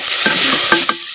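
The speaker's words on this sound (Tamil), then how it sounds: "சேர்த்த தக்காளி பழத்தை அப்படியே நல்லா கிண்டு நல்லா கிண்டுறோம்" Tomatoes fry with onion and garlic in groundnut oil and are stirred in a pan: a loud, steady sizzle with a few scraping strokes of the spoon in quick succession.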